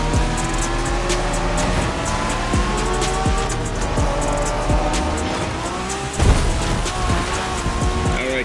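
A car drives hard in The Crew Motorfest racing video game, its engine droning steadily while tires squeal in repeated bursts, with a louder thump near the end and no talk.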